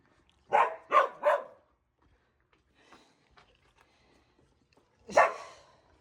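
A dog gives three quick, close barks in a row, then after a pause of faint rustling lets out one more sharp bark.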